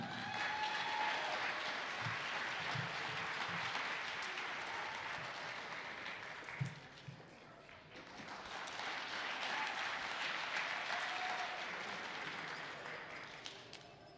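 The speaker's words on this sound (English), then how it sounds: "How about one more big round of applause for all of our fifth graders this year?" Sustained applause from an audience at a fifth-grade school continuation ceremony, steady clapping that dips briefly midway and then swells again.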